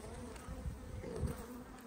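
Honey bees buzz close by in a soft, continuous hum, rising and falling slightly over a couple of seconds.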